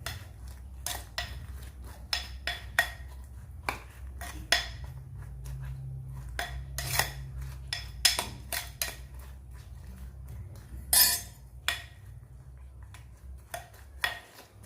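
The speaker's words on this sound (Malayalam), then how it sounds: "ഒന്ന് മിക്സ് ചെയ്യാം." Chillies get stirred with salt and curd in a bowl, producing close, irregular clinks and scrapes of a utensil against the bowl at moderate volume, with no one talking.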